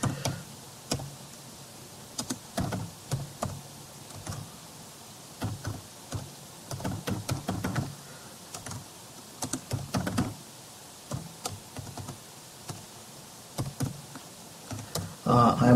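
Computer keyboard typing close to the microphone, uneven bursts of clicky keystrokes with short pauses between them, fairly quiet, with no talking.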